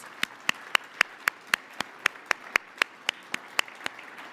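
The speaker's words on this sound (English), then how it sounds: "another round of applause for the startups" At an energy tech startup showcase, a single person claps slowly and evenly, about a dozen crisp, separate hand claps in a steady rhythm against a quiet room.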